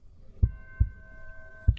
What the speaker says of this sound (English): Now combining the heartbeat with my other rhythmic element, the tubular bell over here, we get this sound.